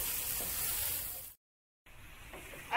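Pieces of pav bread with salt fry in a pan, giving a steady bright sizzle that cuts out briefly to silence and then resumes, with no one talking.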